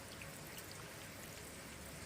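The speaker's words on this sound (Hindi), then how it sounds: "ये बड़ी अच्छी बारिश लगती है जब आप अपने बिस्तर में हो ना, तो ऊपर आवाज़ आती है छत पे" Rain falls at night as a steady, dense hiss with scattered drops, heard alone without voices.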